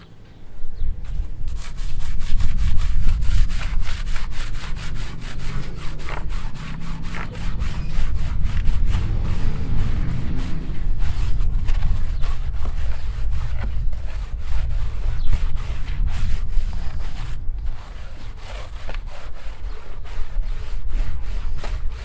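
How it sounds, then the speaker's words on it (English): A scrub brush works steadily over a wheel barrel in a car cleaning job, giving loud, continuous close-up rasping strokes that carry on for the whole stretch with only slight dips. "I'm just going to go ahead and go over the barrel again, because it looks like the center of the wheel is just fine."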